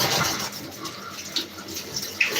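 Water is poured into a part of a Dyson vacuum cleaner, a short splashy rush with small spatters, heard close and alone.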